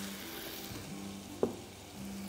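Spices sizzle softly as they are sautéed in a pan for meatball and potato soup, with a low steady frying hiss and one brief clink near the middle.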